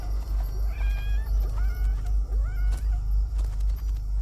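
Kitten meowing in a video game, several thin rising meows spaced over a few seconds, over a loud pulsing low rumble of game sound, with no talking.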